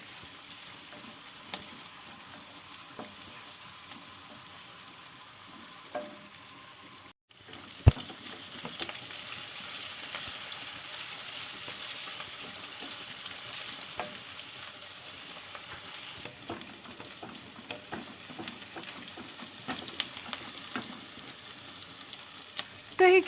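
Finely chopped onions fry in a cup of oil in a kadai, a long low crackling sizzle with scattered pops and utensil knocks, slightly louder after a brief dropout; no speech.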